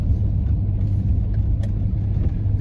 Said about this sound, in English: It even has the same award-winning engine as the Ferrari 488